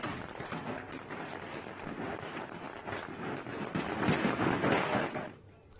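Dense, continuous crackling and popping of Diwali firecrackers at Ram Ghat, a busy barrage of overlapping bursts that swells louder near the end before dropping off.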